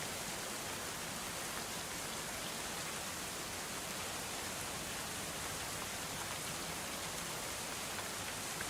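Rain falls steadily in the video game Going Medieval, a constant even hiss of drops that holds without a break and sits at a soft, uniform level.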